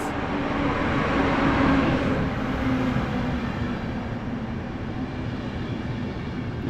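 Intercity Berlin–Warsaw Express train pulling into Warszawa Zachodnia station in winter, a steady rumbling roll with a low hum that holds at even loudness and fades a little toward the end, with no voices.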